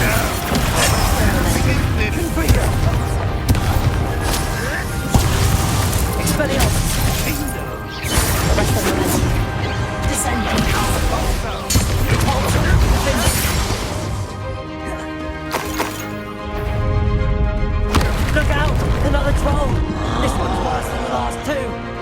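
Repeated crashing spell blasts from Confringo fire explode through a loud Hogwarts Legacy battle in the Final Repository, landing among dense music, impacts and voices for most of the stretch.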